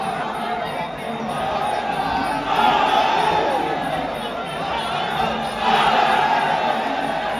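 Muay Thai crowd cheering for the Fah Wanmai Chor Thaiset versus Nampu Changnoonsisaket fight, a dense continuous roar of voices that swells in two louder surges, with a commentator's voice woven through.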